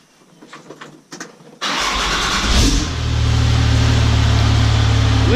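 A 6.7 Cummins diesel pickup truck engine cranks after a few quiet clicks, catches abruptly and settles into a loud, steady, rumbling idle close by, with no talk.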